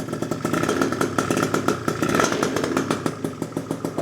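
A Gilera Runner 172cc scooter engine idles loud and close on its first start after a build, with a steady buzzing, slightly uneven putter and light mechanical clatter throughout.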